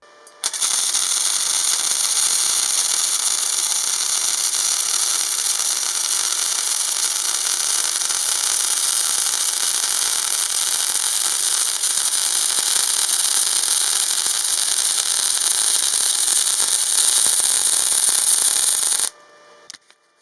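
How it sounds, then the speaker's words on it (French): A Parkside flux-core gasless welder runs at 120 A on stainless steel, giving a steady, close crackling hiss that holds unbroken for most of the stretch before cutting off near the end. "J'augmente au max, c'est-à-dire 3 mm, ce qui correspond à 120 A, qui est la capacité maximale du poste"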